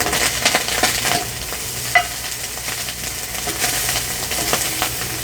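Crispy corned beef sizzles steadily in a cast iron pan on a Gas One camping stove while being stirred and scraped, a continuous close frying hiss with small scraping knocks and no speech.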